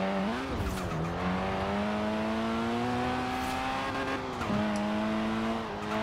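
A small, agile street-rally-style car with pop-up headlights driven in Forza Horizon 4, its engine droning steadily with gear-shift dips in pitch, close and continuous with no talk.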